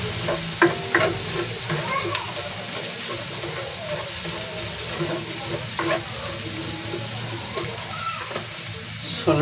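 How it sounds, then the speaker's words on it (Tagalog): Ginger and garlic sizzle steadily in a pan while being stirred, with scraping strokes of the utensil and occasional clinks rising over the continuous frying hiss. "Halo-halo lang po hanggang sa lumabas yung aroma ng ating luya at ng ating bawang."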